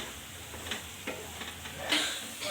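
Masala paste frying in butter for paneer butter masala, stirred by hand in a pan: a low steady sizzle with soft scraping strokes from the spoon recurring every half second or so, one sharper clack near the end.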